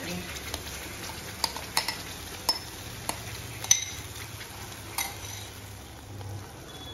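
Gravy being stirred into paneer butter masala in a pan: a spoon scrapes and clinks against the metal in irregular knocks over a soft, low sizzle.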